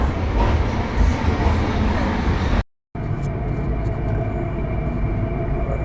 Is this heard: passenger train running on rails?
yes